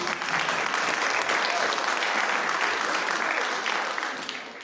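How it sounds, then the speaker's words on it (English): Congregation clapping during a church service, a full, steady round of applause that holds for several seconds before tapering off at the end. "We can clap."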